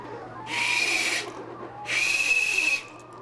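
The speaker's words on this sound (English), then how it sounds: "what we'll end up with is a whistle that just looks like this" A 3D-printed whistle is blown twice, each a steady breathy high tone lasting about a second, close and loud with a pause between.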